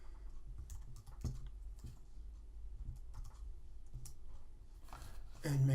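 A file name typed on a computer keyboard produces a short run of soft, close key clicks at an uneven pace, with a faint voice near the end.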